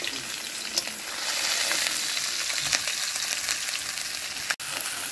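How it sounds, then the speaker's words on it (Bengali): Fish bones and potato pieces fry in hot oil, giving a steady, close sizzle with occasional stirring clicks and a sharp knock near the end. "ভালো করে নাড়িয়ে চাড়িয়ে ভেজে নিতে হবে।"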